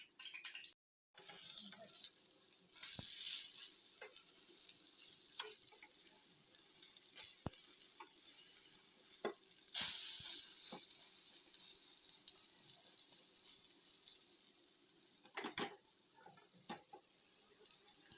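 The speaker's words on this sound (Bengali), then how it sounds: "এটা টকের বড়া অল্প তেল দিয়ে ভাজতে হয়" Sour lentil fritters (bora) shallow-frying in a little oil, a steady hissing sizzle throughout with occasional clicks and taps of a utensil against the pan, fairly faint and close, with no talking.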